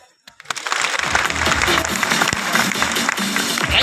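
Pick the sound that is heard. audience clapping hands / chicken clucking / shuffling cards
audience clapping hands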